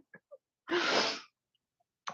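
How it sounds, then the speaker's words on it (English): A single sharp sneeze bursts out close to the mic, with quick breaths before it and a short breathy sound after. "now I'm sneezing"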